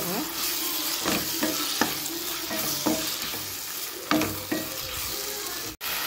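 Chicken being stirred in a hot pan for chicken chukka, a steady sizzle with repeated scraping strokes of the spoon, close and fairly quiet.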